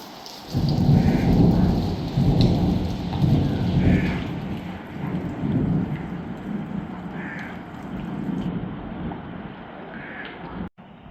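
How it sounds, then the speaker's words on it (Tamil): Heavy rain pours down in Jaffna during a sudden downpour with lightning and thunder, a loud dense hiss with deep rumbling swells, easing somewhat before an abrupt cut near the end. "மழை வந்து அதோட வந்து மின்னல் தாக்கம் அதிகமாக இருக்குது."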